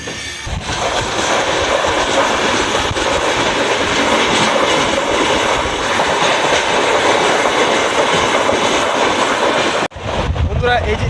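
Padatik Express passenger train running on rails in West Bengal on the Cooch Behar route, a loud continuous roar with rail clatter filling most of the clip before a brief dip and a short rattling tail.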